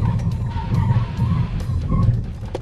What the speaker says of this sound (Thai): กดคันเร่งไปเลยมาฮะ เราจะเอาให้ได้80นะครับแล้วก็เหยียบเบรกครับ